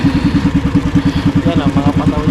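A boat engine chugs close by in a fast, steady rhythmic thump, loud and unbroken, with a faint voice underneath.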